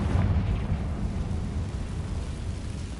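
A Confringo spell explosion in Hogwarts Legacy, heard as a deep, rumbling boom that fills the low end and slowly fades over a few seconds.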